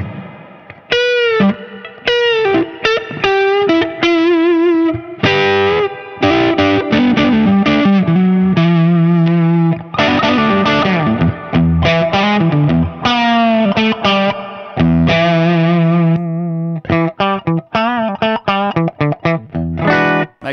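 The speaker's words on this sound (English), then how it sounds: "You've got one incredibly good boost with a sort of a low-gain overdrive thing happening." Electric guitar played through a T-Rex Fat Shuga boost and reverb pedal, with low-gain overdrive and reverb, rings out in loud chords and melodic phrases, sustained notes decaying between strums, with no talking.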